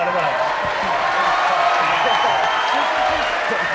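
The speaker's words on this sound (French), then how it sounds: "N'applaudissez pas" A studio audience on a French TV variety show applauds steadily, the clapping dense and continuous, with crowd murmur throughout.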